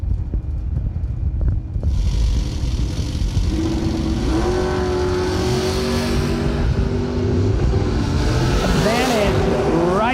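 A Ford Mustang drag racing down the strip at a Christmas bracket race roars and revs, the engine pitch climbing steadily through gears, loud amid wind buffeting and crowd ambience.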